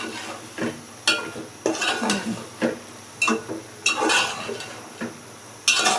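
Curry with tomatoes is stirred in a pot, giving a series of sharp metallic clanks and scrapes of a utensil against cookware at irregular intervals, close by and with no talk.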